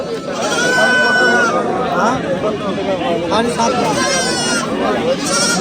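Two goats bleat in short, rising cries amid a crowd of people talking close by, the animal calls cutting through the steady chatter.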